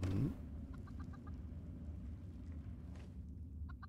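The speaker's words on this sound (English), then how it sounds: "Wait, were they fighting chickens?" Fighting chickens in the video game Fallout 76 give faint, quick clucks in short bursts over a low rumbling game backdrop, with no voices present.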